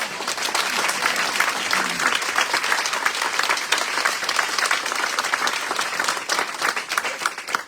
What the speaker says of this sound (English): could we give a round of applause for the viewer gathering, please?